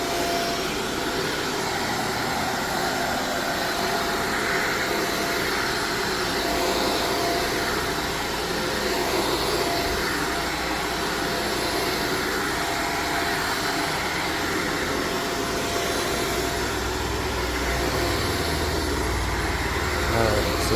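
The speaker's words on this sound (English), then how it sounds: "So starting with vacuuming as usual." Vacuum cleaner running steadily over a showroom carpet, a loud continuous motor whine and airflow roar that holds unbroken and close for the whole stretch.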